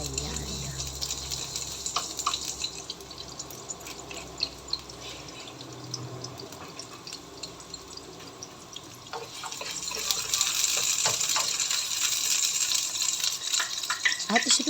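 Chopped onion hits hot cooking oil in a pan and sizzles steadily, with clinks and stirring noises; the frying grows louder toward the end, while a voice talks faintly at times.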